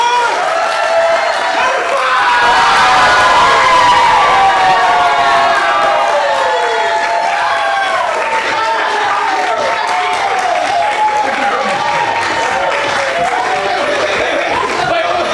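An improv theatre audience at Made Up Theatre cheers, whoops and applauds in a loud, continuous crowd roar, with many voices shouting together throughout.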